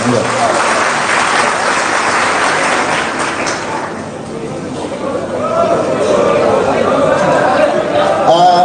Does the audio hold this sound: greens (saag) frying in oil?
no